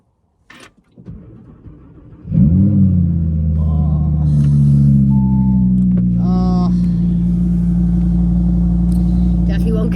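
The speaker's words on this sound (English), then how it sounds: "Let's start her up from cold so you can hear her." Cold start of an Audi R8 at a car dealership: a starter whir, then the engine catches with a loud, deep flaring roar that settles into a steady, rumbling idle, with brief talk early on.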